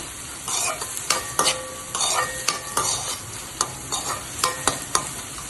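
Onions sautéing in a pan for a Tamil curry-leaf pepper chicken: a continuous close sizzle broken by frequent sharp spatula clacks and scrapes in an irregular stirring rhythm, with no voices.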